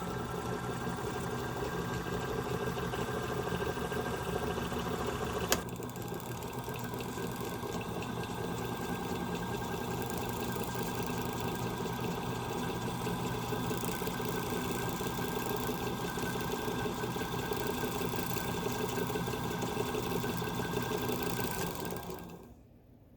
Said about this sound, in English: press the pedal or knee bar to start winding the bobbin